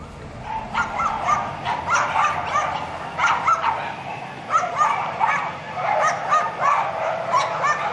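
A chorus of hundreds of caged dogs at a dog-breeding farm barks and yips continuously, overlapping and echoing, loud and dense with no pause.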